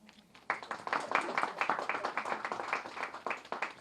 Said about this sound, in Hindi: तालियां थोड़ी कम बज रही हैं